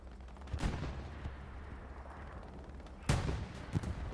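Gunshots ring out during a video game match on Utah Beach: a sharp report early on, then a louder shot followed by another, each echoing over a steady rumbling battlefield background.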